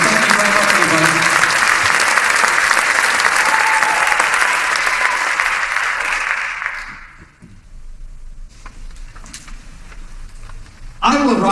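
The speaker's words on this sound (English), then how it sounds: "big round of applause for Clay Norris" An awards-ceremony audience at a rock hall of fame event claps loudly and steadily for several seconds, then the applause fades out abruptly, leaving a quiet hall with a few scattered claps and a brief burst at the end.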